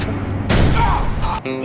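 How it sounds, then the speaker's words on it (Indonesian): Gunfire in an action film scene comes as two loud, dense bursts of shots, each about half a second long, close together and heavy, with a short gap between them. "dia melihat ayahnya ditembak oleh dua orang perampok"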